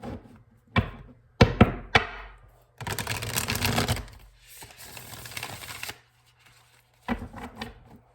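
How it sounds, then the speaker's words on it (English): A deck of oracle cards being shuffled in close, dry bursts: short riffles and taps at first, then two longer shuffling runs and a final crisp burst, with no talking. "Alrighty then, one more shuffle."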